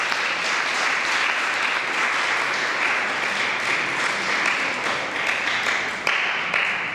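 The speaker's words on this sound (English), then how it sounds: "Please give them another round of applause." Sustained audience applause fills a hall at a school competition awards ceremony, dense, even clapping from many hands holding steady throughout.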